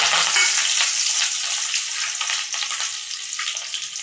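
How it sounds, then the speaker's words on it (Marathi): Grated coconut, green chillies and curry leaves frying in hot oil for sabudana chivda give a steady, close crackling sizzle with brief bursts of spattering, loudest at the start and settling slightly later, with no talk. "खोबरं सुद्धा गोल्डन ब्राऊन होईपर्यंत तळून घ्यायचं आहे आपल्याला"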